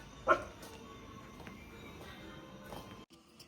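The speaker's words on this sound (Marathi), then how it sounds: "ही स्वीटी बघा कुठं कुत्री तर ही तर भुकायला चालू करत" A single sharp bark or yip from a female dog near the start, then quiet room background.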